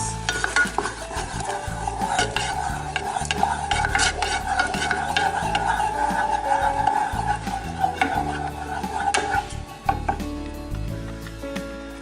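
Pizza sauce with garlic powder and salt is stirred in a pan, with continuous close scraping and clinks of a utensil against metal over a faint sizzle.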